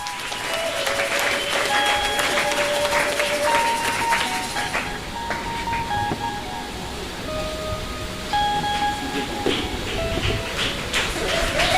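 A congregation at a Sunday church service applauds steadily for about twelve seconds, with sustained melodic tones running through the clapping.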